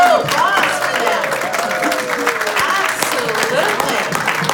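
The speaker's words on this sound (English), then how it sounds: "How about some applause for them?" Loud, sustained audience applause and cheering fill a hall, with whoops rising over the dense clapping and a voice talking through it.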